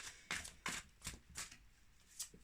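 Tarot cards shuffled for a reading, a quiet, close sequence of about six crisp riffling bursts at an uneven rhythm.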